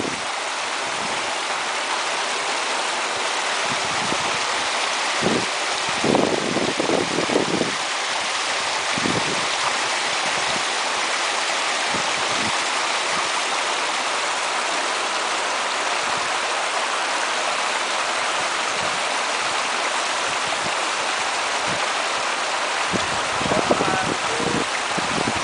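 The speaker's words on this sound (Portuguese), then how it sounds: "Se liga aí, Chico, segura aqui que eu vou encher aqui a garrafinha" A natural stream runs steadily and close along an old stone slave trail while a bottle is filled, a constant broad rushing wash with a few brief low knocks and splashes.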